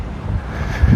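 Gusty wind buffets a microphone outdoors in Denver, a steady low rumble that swells louder toward the end, with no voices.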